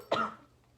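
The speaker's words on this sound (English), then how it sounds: "All the coughing." A single sharp cough bursts out close and loud, then fades into a quiet room tone with nothing else following.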